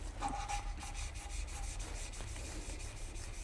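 Engine valves are lapped by hand on a Honda K20z4 cylinder head with a wooden stick, giving a soft, gritty rubbing that repeats in quick, steady back-and-forth strokes, close and fairly quiet.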